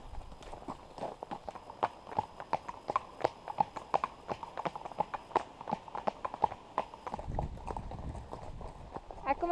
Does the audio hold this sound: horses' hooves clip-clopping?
yes